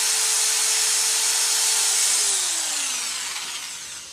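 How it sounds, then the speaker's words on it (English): A 650-watt GMC hammer drill, run from a power inverter, whines loudly at a steady high pitch, then spins down with a falling tone as it winds to a stop. "we've got a 650 watt forward and reverse GMC hammer drill"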